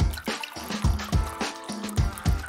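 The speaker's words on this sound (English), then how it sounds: "Then pour in your favorite drink." A drink is poured into a hollowed-out melon fitted with a tap near the bottom. It gives a loud, close, gurgling glug in rhythmic surges, about five pulses, with watery splashing between them.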